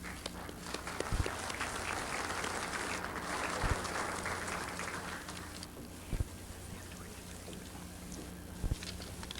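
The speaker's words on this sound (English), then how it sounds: "welcome them with a round of applause" An audience at a utility line-work training session gives new staff a round of applause. The dense, steady clapping sounds faint and distant, with a few dull thumps among it.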